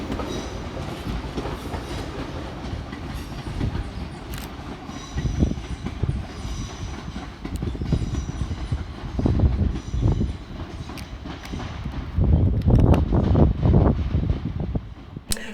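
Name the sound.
London Northwestern Railway class 350 train departing Crewe station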